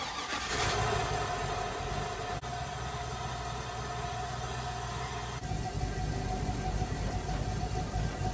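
An LS-swapped car engine cranks briefly and then catches, settling into a loud, steady rumbling idle that runs close by and alone for several seconds.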